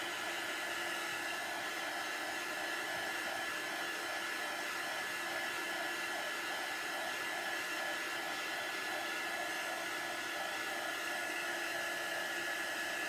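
A steady, uninterrupted blowing hiss of a dryer running close by as small craft bunny pieces are dried, holding an even level throughout with no talking.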